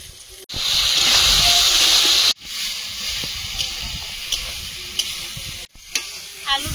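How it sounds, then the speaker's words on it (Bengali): Chopped greens sizzle hard in hot oil with turmeric and spices in a pan, a loud hiss for the first seconds then softer frying with scraping stirs, for a Bengali fish and potato curry. "মশলার সঙ্গে ভালোভাবে কষিয়ে নিয়েছি"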